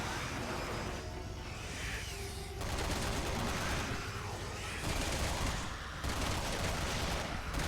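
Rapid bursts of gunfire aimed at an enemy in Resident Evil 6, played as Ada in New Game Plus, sounding as loud, dense volleys that keep going with brief changes in intensity and no talk.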